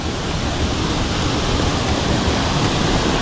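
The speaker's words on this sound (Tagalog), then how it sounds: "Daming falls na nadadaanan na." A waterfall along a hiking trail roars as a loud, constant, broadband rush of falling water, close by and unbroken throughout, with no voices.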